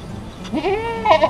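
A dairy goat, about to be milked with a pail system, gives one loud, close, wavering bleat that rises and then breaks into a second shorter cry, with no talk over it.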